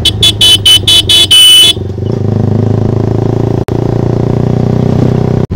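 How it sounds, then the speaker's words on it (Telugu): A loud Yamaha V3 motorcycle with a very loud exhaust on a street beside an auto-rickshaw, opening with a burst of rapid car horn honks, then a heavy sustained engine drone with a couple of sharp clattering cuts. "అంత లౌడ్ వస్తున్నది బండి"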